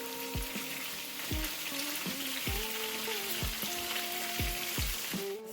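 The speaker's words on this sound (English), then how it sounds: "Once it's golden on one side, you just flip it to the next side." Chicken bites frying in a pan give a steady sizzle broken by repeated sharp knocks and clatters as the pieces are turned, all close by and fairly loud, with no talking.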